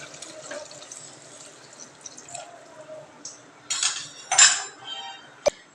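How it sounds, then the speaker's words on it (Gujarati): Water poured into a pressure cooker for sabudana potato khichdi: quiet trickling and splashing, then louder bursts of pouring and a sharp metallic clink of the cooker or glass near the end. "હવે આપણે તેને હલાવીને પછી પાણી એડ કરી દઈશું। અહીં મેં 1 ગ્લાસ પાણી લીધું છે।"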